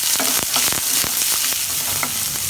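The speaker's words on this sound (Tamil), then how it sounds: "இது கூடவே கட் பண்ணி வச்ச ஒரு 3 வெங்காயத்தையும் சேர்த்து நம்ம வதக்கிக்கலாம்." Chopped onions sauté in a pan with star anise, cardamom and cloves, giving a dense, steady sizzle broken by quick stirring scrapes, close and fairly loud.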